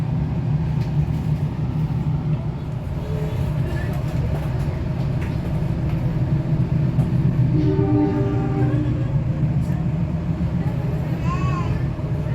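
An Indonesian passenger train waits at Ciawi station to cross another train, a steady low rumble of railway machinery with faint distant horn-like tones and chimes, people talking softly in the background.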